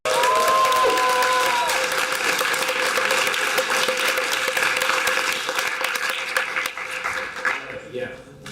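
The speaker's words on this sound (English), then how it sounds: "I think that deserves another applause" Applause from a conference audience at a national assembly in Düsseldorf, dense and sustained, fading toward the end, with a brief tonal note and some voices underneath.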